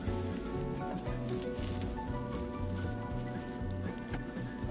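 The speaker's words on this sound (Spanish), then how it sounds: "le vamos a poner la mantequilla, la cucharada de mantequilla, y vamos a esperar a que se derrita un poco" Butter melting in a hot pan gives a steady, close sizzle with a soft crackling patter, running continuously and alone without any talk.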